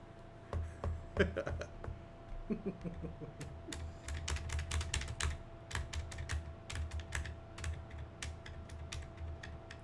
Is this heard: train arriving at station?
no